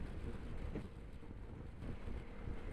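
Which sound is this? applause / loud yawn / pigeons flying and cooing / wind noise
wind noise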